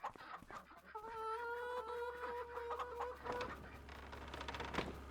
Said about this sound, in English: we've got ducks, we've got chickens.